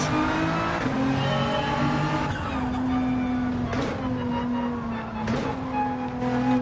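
A Porsche 911 in Gran Turismo 7 pulls hard through the gears, its engine note climbing in repeated rising sweeps with short dips at each shift, loud and continuous with faint tyre squeal.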